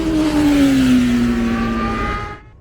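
A classic motorcycle on the Anglesey short circuit race track roars loudly and close. Its engine pitch drops steadily as the bike runs out, then the sound cuts off abruptly.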